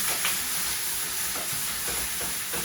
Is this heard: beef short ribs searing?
yes